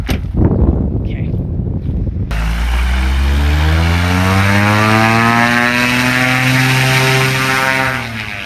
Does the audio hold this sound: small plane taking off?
yes